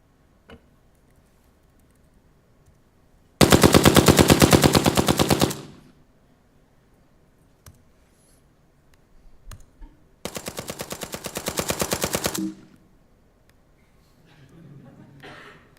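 Recorded gunfire for a sound library: two sustained automatic bursts, each about two seconds of rapid, loud, evenly spaced shots, separated by quieter gaps with faint low activity.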